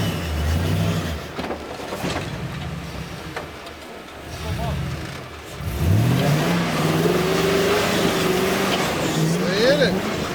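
Rock crawler with an LS engine revving hard on an obstacle at a rock crawling competition, rising throaty engine roars that swell and climb in pitch, loud and close, with voices talking over it.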